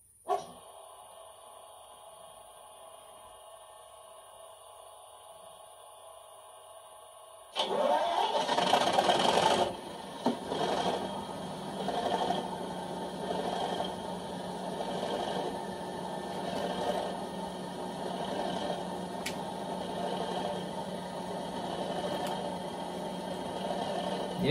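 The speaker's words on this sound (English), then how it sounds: "So we can turn on the actual engine sounds now." DCC sound decoder in an Accurascale OO gauge DRS Class 37 model diesel locomotive firing up: a faint idle hum, then an abrupt loud start-up roar that settles into a steady, bass-heavy diesel thrum with slight rises in revving.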